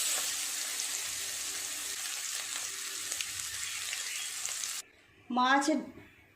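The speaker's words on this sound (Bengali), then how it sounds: "ডিমটা হলেই হয়ে যাবে ভাজা" Fish roe frying in oil, a continuous close crackling sizzle for nearly five seconds, then a cut to quiet and a short burst of talking.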